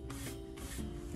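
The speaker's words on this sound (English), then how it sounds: "the old pants leg strop" A knife blade stropped against a pants leg, giving steady rubbing strokes of fabric friction, close and continuous, with a few swells as each pass changes direction.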